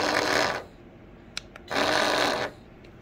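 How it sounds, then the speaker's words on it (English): Two bursts of harsh, buzzing vibration from a dog shock collar, each under a second, with a couple of small clicks in the gap between them. Nearby, no talking. "and then we're gonna vibrate it too."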